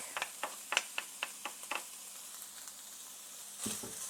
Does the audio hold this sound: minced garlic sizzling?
yes